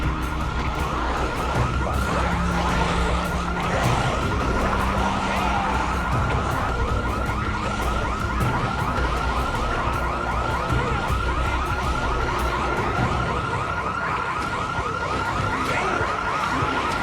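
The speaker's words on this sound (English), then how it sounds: "Is it the fire station's alarm?" A fire station alarm in Project Zomboid wails continuously with a repeating siren-like sweep over a dense, loud background for the whole stretch, with no speech.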